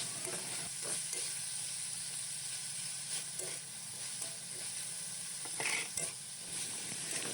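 Carrot and chayote with chicken broth and marinade sizzle quietly in a pan as they are stir-fried, with soft spatula scrapes and a steady frying hiss throughout.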